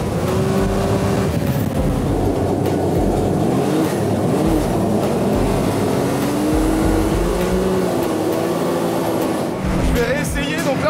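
An off-road buggy in rear-wheel drive with its suspension removed runs across a dirt field track, its engine droning loudly and steadily throughout, with engine pitch rising and falling as it turns.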